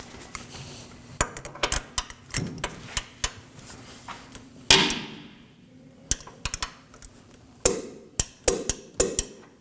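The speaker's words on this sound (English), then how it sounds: "We're going to tighten the rear bolt to 74 foot-pounds." Rear ball joint bolt on a 2013-2019 Nissan Sentra being tightened to torque with a wrench, giving a run of sharp metallic clicks and ratchet ticks at an irregular pace, close and fairly loud, with no talk.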